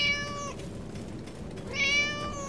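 A cat gives two clear meows about a second and a half apart, the first longer and the second rising then trailing off, heard close over a low background hum.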